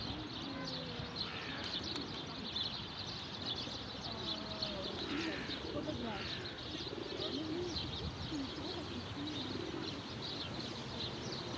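Pigeons coo softly amid a dense, continuous outdoor hiss by the sea, low burbling calls repeating irregularly while other birds chirp faintly and voices murmur in the background.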